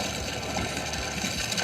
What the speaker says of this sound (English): Here's water, the crackling, and then my voice.